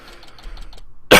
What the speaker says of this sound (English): Gotta get that smoker's cough just out of the way